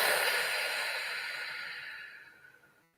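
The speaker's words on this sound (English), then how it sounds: "Exhaling, letting it all go." A long, deep breath out during a relaxation breathing exercise, an airy, close hiss that starts strong and slowly fades to silence over a few seconds.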